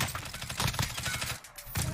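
Rapid gunfire in the video game Call of Duty: Warzone, a dense burst of close shots lasting about a second and a half, then a brief pause before another loud burst.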